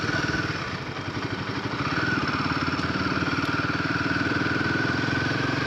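A 2025 Royal Enfield Himalayan 450 motorcycle engine while riding, with a loud steady pulsing thrum and a rapid firing rhythm that builds slightly as it revs, close up with faint wind noise and no talk.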